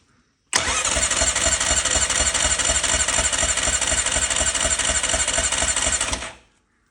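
A 2001 Yamaha Grizzly 600 4x4 ATV engine, freshly rebuilt, fires up and runs with a steady, loud, rapid chugging idle for about six seconds before cutting off abruptly.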